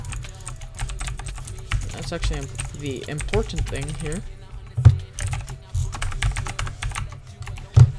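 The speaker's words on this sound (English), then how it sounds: "you might be able to hear my keyboard better" Rapid clicking of keys on a computer keyboard continues close by, while a person talks briefly over it.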